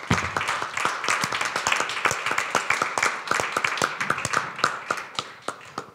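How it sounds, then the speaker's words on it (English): A conference audience claps for students at a Friday-afternoon session of a law forum, a scattered room of hands with distinct individual claps standing out, continuing steadily for about six seconds and thinning slightly toward the end. "I think we should all do an applause to the students here"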